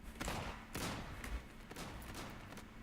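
Faint gunfire bursts from the online battle royale video game Islands of Nyne: several short, noisy volleys over about three seconds, sounding distant and muffled, with no voices.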